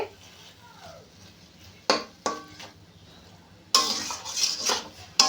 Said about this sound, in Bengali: দিয়ে আবার বেশ ভালো করে এইভাবে নেড়ে নেব এইভাবে নাড়তে নাড়তে পুরো একদম রস শুকিয়ে যাবে